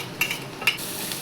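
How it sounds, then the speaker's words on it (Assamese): Onion and ginger-garlic paste are stirred into hot oil in a kadai. Two quick, bright scraping strokes cut through a soft, continuous sizzle. "সেইটো দি কেৰাহীত মিলালোঁ।"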